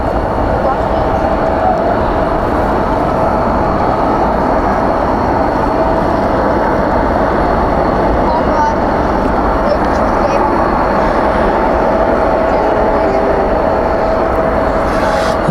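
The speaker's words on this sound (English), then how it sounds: "Spoilers up, reversers out on this one." Airliner landing at night at Dallas Fort Worth with spoilers up and thrust reversers deployed, a loud continuous rushing engine roar held steady throughout, with a person talking over it.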